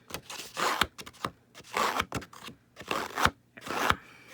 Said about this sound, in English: I want to go ahead and distress the edge on this